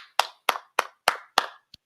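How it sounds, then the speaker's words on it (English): Five sharp, evenly spaced hand claps ring out close and clear in a quiet room, followed by a softer sixth tap, each clap a crisp isolated smack. "I can't do nothing but clap for you"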